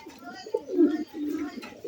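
A sick pet pigeon gives a few soft, throaty coos in short bursts at close range, with a voice speaking around them.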